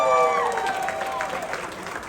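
An audience applauds at an event introducing the US Air Force Thunderbirds, dense clapping that fades slightly over two seconds, with tonal traces from a voice or sound system at the start.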